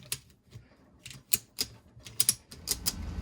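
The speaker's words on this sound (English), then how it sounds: "I'm going to tighten that, and then I'm just going to start ratcheting this together" A ratchet strap clicks in short uneven bursts as it is cranked tight around a tubeless snowblower tire, each pawl stroke a sharp close rattle separated by brief pauses.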